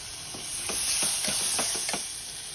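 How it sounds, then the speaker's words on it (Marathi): Spices and a finely chopped medium tomato fry in a pan for veg pulao, a constant close hiss broken by a quick run of rhythmic scraping stirring strokes. "याच्यामध्ये 1 बारीक चिरलेला मीडियम साईजचा टोमॅटो घालायचा।"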